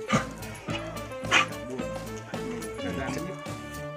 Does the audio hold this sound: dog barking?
yes